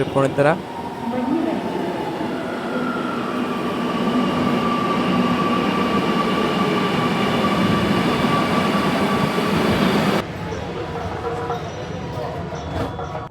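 Inside a Kochi metro train headed to Tripunithura, a steady rumbling drone of running carriage with a faint rising tonal whine, holding for about ten seconds before cutting to a quieter scene.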